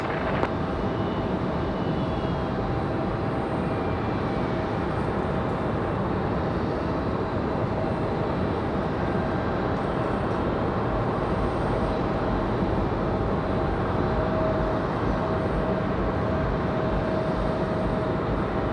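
An airliner takes off from runway 23 left at Raleigh-Durham International Airport, a sustained, loud, roaring engine rumble with a faint steady whine above it, holding steady and continuous throughout.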